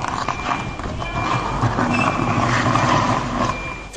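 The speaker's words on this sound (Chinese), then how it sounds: "车打在刹车档，被锁死的轮胎在被硬拖的过程中还发出刺耳的摩擦声响" A parked car with locked tires dragged across a market parking lot by a forklift, a harsh grinding scrape of rubber under steady engine rumble, with a high warning tone and clattering noise around it.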